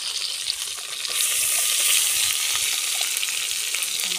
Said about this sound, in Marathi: आता आपण चांगलं तळून घेऊया.